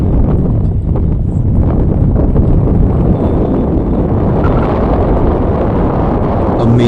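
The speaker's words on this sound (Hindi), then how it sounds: "क्या मस्त हवा चल रहा है दोस्तों।" Strong wind blows at Sutiyapat Dam in Kawardha, Chhattisgarh, in a valley ringed by mountains, making a steady, loud rumbling roar against the microphone that lasts throughout with no talking.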